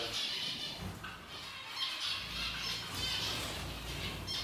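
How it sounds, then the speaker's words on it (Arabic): Many small cage birds, including zebra finches, chirp and squawk in a dense, continuous chatter, fairly close and steady, with no pauses. "هذا الطيور عادية"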